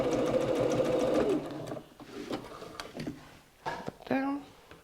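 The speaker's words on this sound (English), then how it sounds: "go at the sewing machine, and a 1/4 inch seam" A sewing machine runs in a fast, steady whir for over a second, then stops, followed by quieter handling noises and a brief voice.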